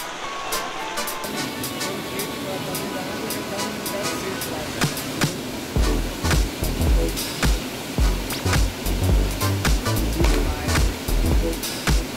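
Almécegas waterfall in the Cerrado pours in a steady, loud broadband rush, with sharp splashing and knocking bursts joining in the second half; no speech is heard.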